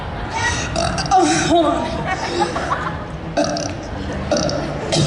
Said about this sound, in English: how loud you can burp